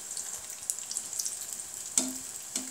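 Sweet potato pieces fry crisp in oil with a faint, crackly sizzle and a few sharp clinks or spatters, heard close up without speech.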